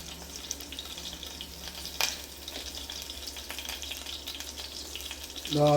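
Spices sizzle and splutter steadily in hot oil for an egg masala, a close, continuous crackling hiss with small pops and a sharper spit now and then.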